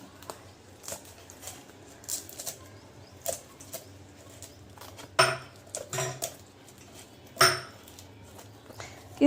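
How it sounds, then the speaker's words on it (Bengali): River fish such as bhola being cleaned and cut by hand, with sporadic knocks, scrapes and clinks of a knife and utensils, two sharper chopping thuds standing out, close by with no talking. "চলো মাছগুলোকে ছাড়িয়ে নেওয়া যাক কেটে নেওয়া যাক"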